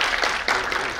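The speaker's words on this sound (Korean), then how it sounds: "박수입니다." A short burst of dense audience clapping at a finance industry event, loud and continuous for about a second.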